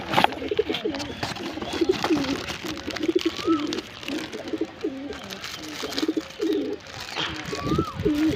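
Several pigeons coo nearby in soft, repeated rolling calls, a steady series of throaty notes with faint background noise between them.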